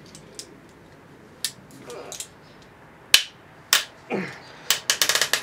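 Scattered sharp pops and clicks from turning the limb bolts on a bow during setup, irregular at first then clustering into a quick series of snaps near the end, close and fairly quiet.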